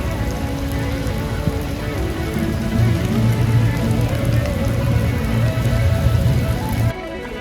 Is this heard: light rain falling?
yes